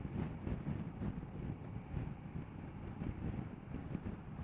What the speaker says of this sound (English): The wind on the motorway with this screen fully up is quite adequate.